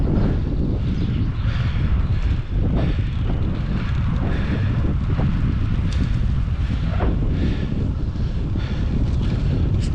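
Easterly wind buffeting a cyclist's microphone on a flat road ride, a steady loud rumbling roar with gusty swells throughout, no voices.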